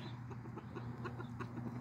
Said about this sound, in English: I just don't think I like the name Prince for this rooster